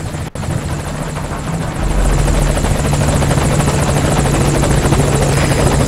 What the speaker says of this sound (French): Allez, voilà notre hélico.